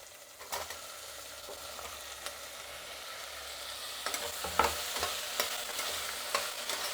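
Tomatoes with garlic stirred and fried in a pan: a soft steady sizzle with several scraping strokes of a spoon, growing busier toward the end, no talk.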